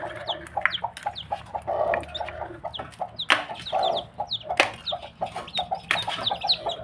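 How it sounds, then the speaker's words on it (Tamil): A hen clucks softly while about eight newly hatched chicks peep in high, rapid chirps nearby, a busy, continuous chatter of small birds. "இது ஒரு ரெண்டாவது கோழி இங்கே குஞ்சுகள் பொறிச்சிட்ருக்கு"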